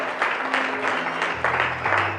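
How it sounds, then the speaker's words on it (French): A church congregation claps and cheers in a sustained wash of applause, rhythmic bursts of clapping over a low organ-like drone. "Nous acclamons."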